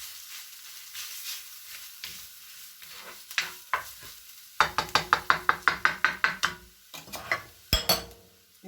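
Beef stuffing for kheema potli brioches mashed in a sizzling pan, a soft background sizzle broken by a quick series of sharp, evenly spaced knocks and presses up close, with no speech.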